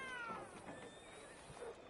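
A cat in Red Dead Redemption 2 meows in a few short, rising cries, fairly close, over a faint outdoor game ambience with a voice murmuring underneath.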